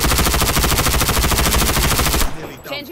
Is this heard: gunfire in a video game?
yes